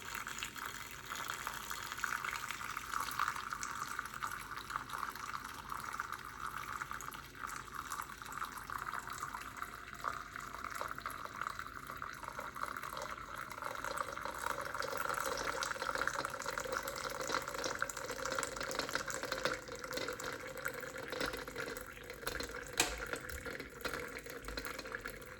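Hot water pours over jasmine oolong tea in a long, steady, quiet stream, its gurgling shifting in pitch as the vessel fills, close by and alone.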